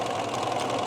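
A sewing machine stitches quilt pieces together in a steady, close, continuous mechanical hum with a fast rhythmic needle chatter.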